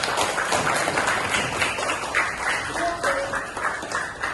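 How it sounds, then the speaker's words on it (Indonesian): Scattered applause from a small group of students in a classroom, uneven and fairly close, lasting a few seconds. "Kasih tepuk tangan buat Nurul."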